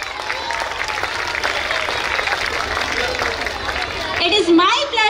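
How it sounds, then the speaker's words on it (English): Applause from an audience at a school prize distribution ceremony, sustained clapping throughout with crowd murmur and a few raised voices near the end. "Let us give them a big round of applause."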